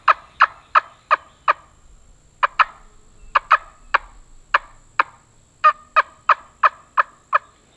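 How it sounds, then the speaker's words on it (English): Wild turkey gobbling during a hunt, a rapid series of loud, sharp clucking calls in quick bursts with brief pauses between groups, clear against a quiet outdoor background. "Sounds like a turkey to me."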